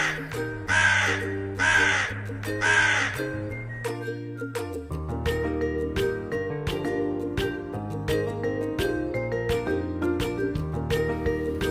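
Repeated loud crow caws, three harsh calls in quick succession, over a busy musical backing with clinking accents that continues after the calls stop.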